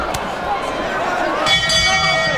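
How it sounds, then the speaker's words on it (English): Boxing bell rung to end a round at a professional fight, clanging briefly near the start and again about 1.5 seconds in, ringing over a steady crowd roar and a commentator's voice. "Another bell, another round over, another round."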